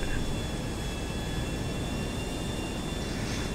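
A video game airplane engine drones in a constant, even hum with a faint high whine, steady and unbroken, no one speaking.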